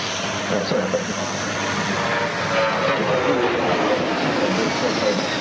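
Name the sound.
Globemaster military aircraft passing overhead at airshow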